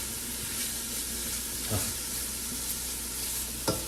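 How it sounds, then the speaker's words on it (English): Onion, garlic and paprika mixture browning in a pan, with a steady close sizzle and frying hiss throughout and a couple of brief stirring scrapes, no talking. "in the onions and garlic and paprika mixture, just to brown them a little bit."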